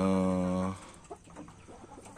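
Laying hens in a breeding coop: a loud, drawn-out tonal call from a hen opens, then gives way to quieter, scattered short clucks close by, with no talk.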